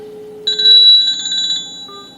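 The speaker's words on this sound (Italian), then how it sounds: "Io chiaramente sto chiamando adesso il telefonino di casa, ok?" Electronic phone ringtone playing through a Dasaita Android head unit fitted in a Nissan Micra K14, a clear tonal chime rising after a softer beep, loud and close with no talk.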